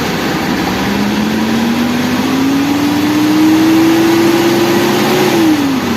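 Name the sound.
car engine revving while checking radiator coolant circulation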